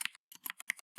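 A computer keyboard clacks as C++ code is typed, giving about six quick, close keystrokes in roughly a second with no talking.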